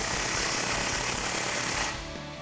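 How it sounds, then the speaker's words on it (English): A socket wrench tightens a clamp on a stainless steel single exhaust muffler on a Tacoma, making a steady buzzy mechanical rattle close by that eases off near the end. "hold our muffler up, and take a 17mm socket to tighten this down"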